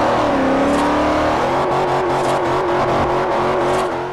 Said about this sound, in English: You can hear that supercharger I think I put on it.